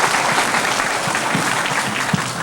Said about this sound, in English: let's just give a warm applause for Mike Ernest